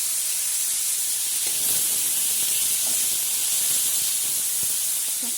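Fried chicken goes into a pan of sautéed garlic and onion, giving a continuous close hiss of steam and sizzling with a few faint clinks and scrapes, no one talking.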